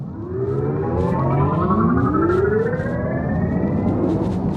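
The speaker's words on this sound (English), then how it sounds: "This is kind of Jetsons sound, a little cartoonish." A 2025 Mini Countryman SE All4 electric SUV accelerates in core mode, its artificial drive sound a rising, whooshing synthetic tone layered in gliding harmonics, cartoonish and futuristic, steady and fairly loud with no voices.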